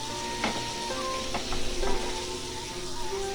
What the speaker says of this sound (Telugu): 3 నిమిషాలకి ఉల్లిపాయ ముక్కలు, టమాటా ముక్కలు ఇవన్నీ కూడా ఆయిల్లో మగ్గిపోయాయి.